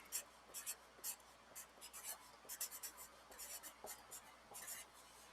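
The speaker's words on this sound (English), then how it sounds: "So at the very top, I'm going to write faire." A pen scratches across a sheet of paper in short, quiet strokes, a close, intermittent rhythm of scribbles with brief pauses between them.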